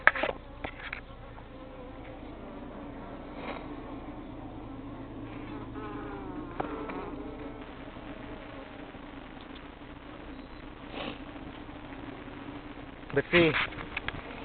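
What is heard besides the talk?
bees buzzing during top bar hive inspection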